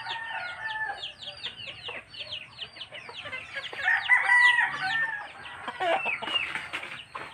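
Chickens cluck busily inside a backyard coop while a rooster crows partway through, the calls layered and fairly close, with quiet rustling beneath.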